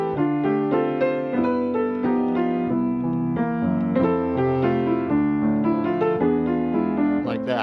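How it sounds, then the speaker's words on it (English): A piano plays a jazz standard in spread-voiced chords: a steady, sustained run of full, ringing harmonies, close and fairly loud throughout, with no talking. "So if we play the song with a regular type of chords like spread voicings and whatnot, it's going to sound like this."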